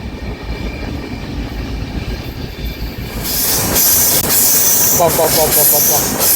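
A Tirumala Express passenger train rolls along the rails, a steady low rumble giving way to louder hissing, rattling and wheel squeal as it runs on.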